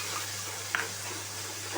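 Ginger-cumin paste frying in hot oil after tempering spices, a low steady sizzle with a brief clink of a spoon against the pan partway through.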